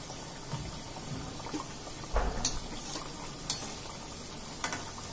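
Bedai dough frying in hot oil, a soft steady sizzle broken by scattered stirring clinks and a few sharper spatula knocks, with no talking.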